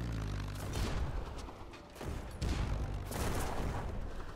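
A powerful weapon fires in the airship game Black Skylands, several heavy booming shots landing in quick succession with rumbling decay between them.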